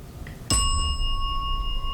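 A single bright bell ding rings out sharply and then sustains with a clear, steady ringing tone for over a second during a ghost hunt in a quiet room.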